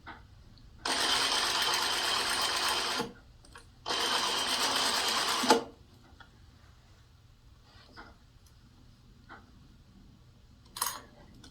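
A sewing machine stitching fabric for quilt bias binding runs in two steady buzzing bursts of a few seconds each, separated by a brief pause, then quiet clicks and light handling.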